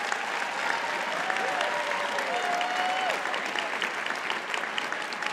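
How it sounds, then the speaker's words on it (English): A commencement crowd at a Berkeley School of Education graduation applauds its speakers, a steady dense wash of many hands clapping at moderate distance, with faint whoops rising briefly over it. "Please join me in another round of applause for our speakers"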